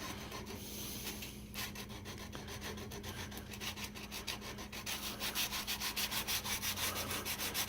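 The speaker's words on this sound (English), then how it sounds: "trying to bevel this front end a little bit, just so it's not so square." Sandpaper rubbed back and forth to bevel the square wooden front end of a muzzleloader stock, a steady rasping scrape that becomes a quicker, louder rhythmic stroke toward the end, close and alone.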